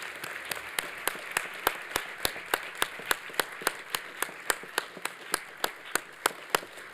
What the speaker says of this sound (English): students, if you'd give a round of applause to Jason and Brodee for their efforts